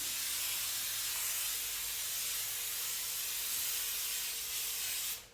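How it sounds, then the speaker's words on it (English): Laurastar IGGI handheld garment steamer releasing hygienic steam in a steady, close, loud hiss that holds for about five seconds before cutting off abruptly. "because we have this hygienic steam"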